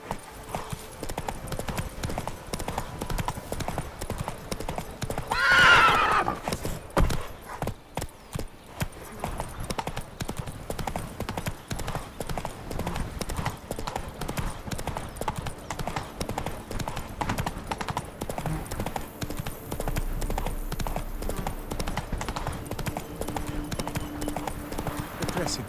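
Horse Roach's hooves clip-clop in The Witcher 3, a steady patter running under ongoing talk and game ambience throughout.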